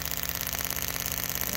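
Car engine with HEI ignition and a misfiring spark plug, idling steadily with a rapid rhythmic pulsing chatter, close and even for the whole moment.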